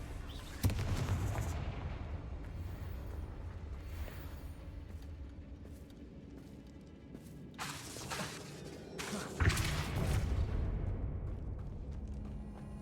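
Explosive spells such as Bombarda and Confringo cast in combat in the video game Hogwarts Legacy: several loud booming blasts with shattering crashes, separated by rumbling lulls, without speech.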